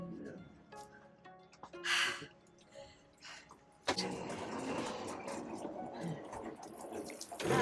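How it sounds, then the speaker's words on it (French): Water runs steadily from a shower after a swim off a boat near Toulon, a continuous broadband rush that starts abruptly midway and stays loud, with a person talking in the quieter stretch before it. "Et je prends ma douche."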